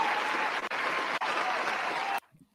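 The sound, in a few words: round of applause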